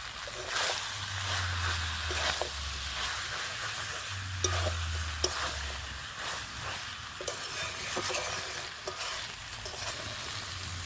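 Four green chillies frying in a pan with goat intestine gravy, a steady close sizzle and crackle with stirring scrapes across it and a low rumble underneath.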